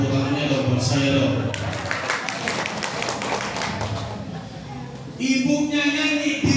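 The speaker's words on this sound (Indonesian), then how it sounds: "Mana tepuk tangannya dong buat saya dong" Audience applause at an Isra' Mi'raj religious lecture gathering: a crowd clapping in a dense patter for a few seconds, with a voice talking before and after.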